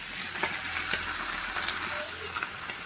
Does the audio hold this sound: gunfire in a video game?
no